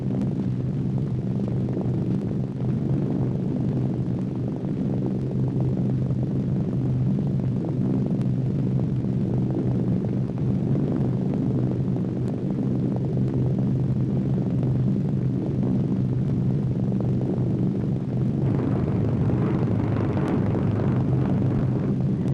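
Steady, dense drone of World War II aircraft engines, P-38 fighters among the escort, rumbling loud and unbroken throughout newsreel footage, with no voices over it.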